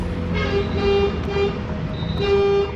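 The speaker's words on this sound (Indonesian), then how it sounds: "Tiba-tiba terdengar suara klakson dari sebuah mobil Kijang Super yang memasuki pelataran bengkel." A Kijang Super car sounds its horn as it pulls into a workshop yard: several short honks close by over a low engine rumble.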